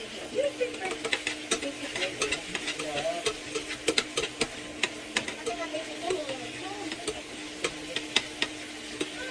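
Garlic frying in a hot pan, crackling sizzle with frequent sharp pops and stirring clicks, close and fairly loud, while a person talks over it.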